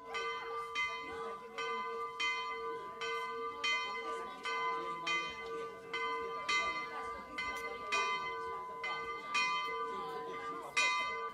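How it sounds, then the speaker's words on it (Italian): A newly installed electric church bell in Deliceto strikes in a steady, even rhythm of clear ringing tones, each hit followed by a sustained hum, heard loudly and without speech throughout. "c'è questa nuova campana che hanno messo"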